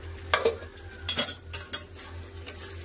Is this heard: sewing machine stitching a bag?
no